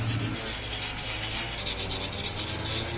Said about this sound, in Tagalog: Kaya lihain muna natin yon gamit tong 150 grit.